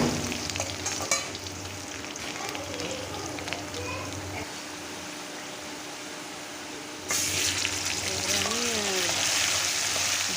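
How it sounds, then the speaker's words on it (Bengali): Cumin, a bay leaf and potato fry in hot oil, giving a continuous soft sizzle with occasional stirring, while a voice talks over it and the frying grows louder and brighter toward the end. "আমি একটু ভালো করে ভাজবো, লাল লাল করে ভাজবো"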